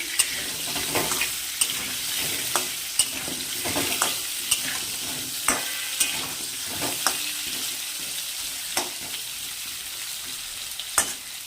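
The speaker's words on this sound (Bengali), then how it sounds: "ভাজা হতে থাক দেখি আলুগুলো লাল লাল করে ভাজা হয়ে এসছে" Potatoes fry in a pan for a fish curry, a steady close sizzle broken by sharp scrapes and clacks of stirring at irregular intervals, with no talking.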